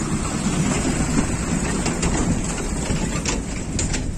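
A train rolls past at Eco Park in Kolkata, a steady broadband rumble and rush that holds for the whole stretch with faint bird calls and no voices.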